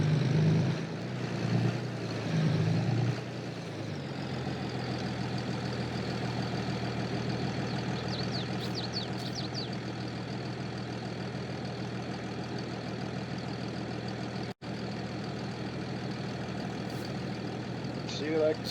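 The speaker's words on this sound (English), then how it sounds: "There's the tractor." A tractor engine idles in a farming video game, a steady low rumble that holds evenly for the whole stretch, with a brief thicker burst at the start and a short dropout near the end.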